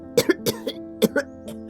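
A person coughs repeatedly in a dusty room where a floor is being swept, a sharp near series of about five or six hacking bursts in an uneven rhythm with short gaps between them.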